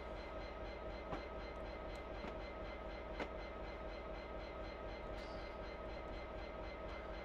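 A train running on the Settle to Carlisle railway gives a steady, faint rolling rumble with a couple of soft clicks from the rails and no voices.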